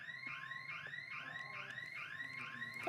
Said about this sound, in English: Someone set off alarm.